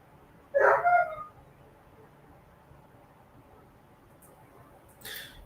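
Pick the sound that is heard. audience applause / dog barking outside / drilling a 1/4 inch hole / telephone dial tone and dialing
dog barking outside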